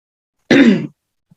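A single short, harsh cough or throat clear from a woman leading an online teacher session, close and loud, lasting about half a second, followed by silence.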